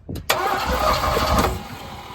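An old 1971 Ford F250 engine that has sat unused for nine years cranks over steadily for about a second and a half after a brief start, loud and close, with no speech.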